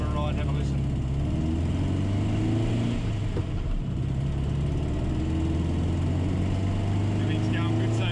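A VW Baja's engine pulls steadily with a continuous droning growl that rises in pitch as the car accelerates downhill, loud and close throughout with no talk over it.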